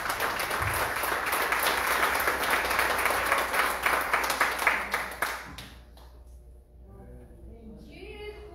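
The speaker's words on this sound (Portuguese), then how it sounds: "dá uma salva de palmas para Jesus." A church congregation applauds for Jesus during a sermon, dense clapping for about five seconds that stops abruptly, leaving quiet room sound and faint murmurs.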